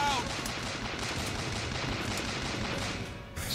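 Sustained rapid gunfire in the video game Bioshock Infinite, a dense, loud stream of automatic shots that continues without a break for several seconds before cutting off.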